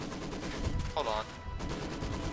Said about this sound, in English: That is an MG34.